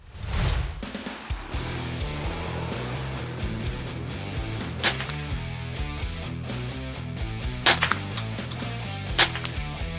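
A Bergara BMR-X rimfire rifle is fired at an outdoor range: four sharp, loud cracks spaced several seconds apart over a steady background hum.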